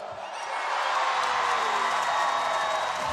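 After a quiet start, a crowd at a beach volleyball final in Montreal breaks into loud, sustained cheering and whooping, a steady wash of voices that holds to the end.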